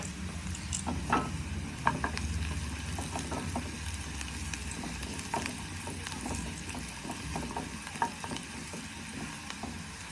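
Onions frying with spices in a pan for a chicken curry, a steady sizzle broken by repeated scraping and clinking stirring strokes, close and continuous with no talking.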